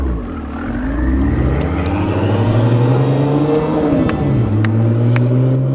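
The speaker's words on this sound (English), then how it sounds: "Here we go with the 911 Turbo S." A Porsche 911 Turbo S accelerating hard, its engine note rising steadily through the gears with a brief dip at a shift, loud and close with no talking.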